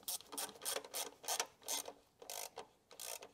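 A hand ratchet clicks in quick bursts while snugging the rocker cover bolts on a Renault Clio engine, with about eight short close rasping strokes separated by brief pauses.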